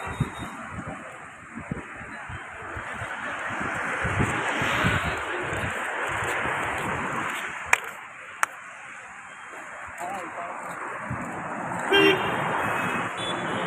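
Evening road traffic on a route toward Dum Dum Airport roars steadily under gusty wind noise, with sharp clicks and a brief car horn toot near the end.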